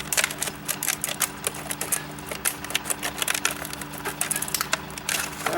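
Tin snips cutting through stiff packaging for a new flag pole, a steady run of sharp clicking and crunching snips close up, with constant low background hum and no talking.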